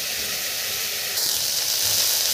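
Chopped lentils hiss and sizzle steadily as they fry in a wok with jute greens, and the sizzle gets a little louder partway through.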